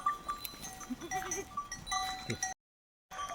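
Goats graze in a forest in a remote village area, giving faint bleats over quiet outdoor ambience, broken by a short moment of silence.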